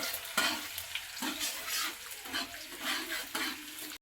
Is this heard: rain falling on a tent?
no